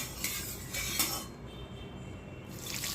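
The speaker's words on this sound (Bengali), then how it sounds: "কড়াইতে একটু নেড়ে নিলাম।" A utensil scrapes and clinks against a wok of white oil with a few soft metallic strokes, each close and fairly quiet, then a short lull before the stirring noise returns.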